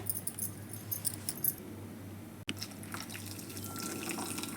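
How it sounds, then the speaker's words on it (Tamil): Hot water is poured over jaggery in a pan for a wheat cake recipe, making a soft, continuous splashing and trickling at low volume, with small clinks and a brief pause midway. "ஒரு கப்பு வந்து சுடு தண்ணி நல்லா சூடாக ஊற்றிருக்கேன்"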